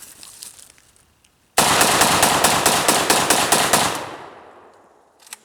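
Rapid automatic gunfire at a shooting target, a loud sustained burst of closely spaced shots lasting a couple of seconds, close and harsh, then fading echo into quiet.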